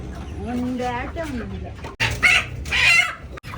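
Native country chickens and a rooster cluck and call, mixed with people talking nearby, the bird sounds turning brighter and busier in the second half.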